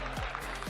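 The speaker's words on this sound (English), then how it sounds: "Give a round of applause for Jonas." Applause from the audience at a Super Smash Bros. Ultimate tournament, a brief burst of steady clapping from a crowd in a convention hall, continuous and moderately loud for under a second.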